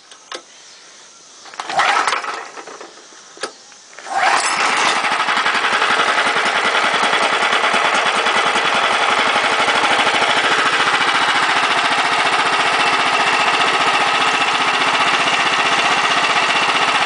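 A Harbor Freight Predator 13 hp gasoline engine is pulled over a few times, then catches and runs at a steady, loud idle with a continuous throbbing drone that fills the rest of the recording.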